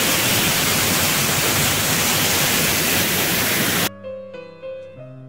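Waterfall on the Doria near Saint-Jean-d'Arvey by Chambéry, a loud, broad rushing roar of falling water that cuts off abruptly into music near the end.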